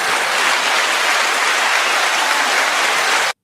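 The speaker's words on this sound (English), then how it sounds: "Let me give y'all some hand claps" Dense hand clapping, a steady wash of applause from many hands, loud and close, holding evenly for about three seconds before cutting off abruptly.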